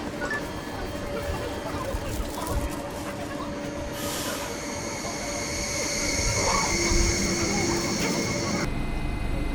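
Train at Heilbronn railway station in Germany, with steady rumbling station ambience, a rising mechanical whine and a brief wheel squeal, followed by a sharp cut midway through, continuous and moderately loud throughout.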